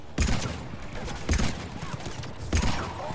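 Three short bursts of rapid pistol gunfire in Mass Effect 3 ring out at roughly even intervals, each a sharp volley of shots over a low background.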